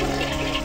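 A toilet flushes in the video game I Have No Mouth and I Must Scream, a short rushing burst of water heard alone and close.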